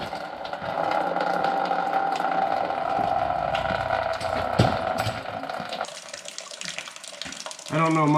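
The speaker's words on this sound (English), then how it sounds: "I feel like water shouldn't be running out of your diff like that." Water running and splashing out of the differential of an abandoned 1956 Chevrolet barn find, a steady close trickle like a tap, with a brief knock midway and a louder burst at the end.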